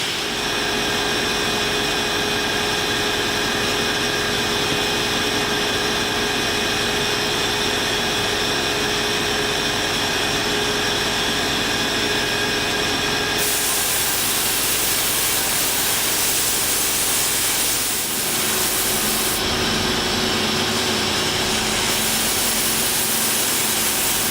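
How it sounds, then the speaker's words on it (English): A shop vacuum sucks sand out of a car, roaring continuously and loudly, a steady rushing whine that shifts pitch partway through as suction changes. "Let's vacuum out the sand."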